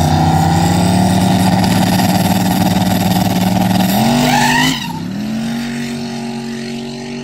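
Off-road vehicle on an RMRW track, engine droning loudly at steady revs and then dropping in pitch as it eases off, tire noise blending with the engine throughout.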